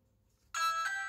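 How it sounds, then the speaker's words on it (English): A Ring smart doorbell chime rings out indoors after a moment of near silence, a bright sustained electronic tone with a second strike partway through, clear and moderately loud against faint background hum. "The doorbell is now connected. You can see it's working."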